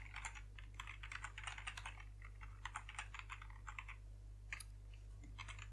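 Someone types an email address on a computer keyboard, producing quick, irregular bursts of light key clicks, fairly faint over a steady low electrical hum.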